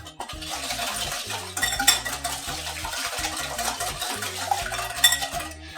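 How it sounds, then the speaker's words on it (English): Vegan blood orange donut batter being whisked by hand in a bowl, a rapid, continuous rhythmic clatter of the whisk against the sides with a few louder knocks. "And then we're just going to whisk this together."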